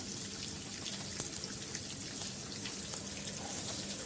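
Finely chopped onion frying in a pan with green chillies and curry leaves, giving a steady, close sizzling hiss with crackling pops throughout and no talking.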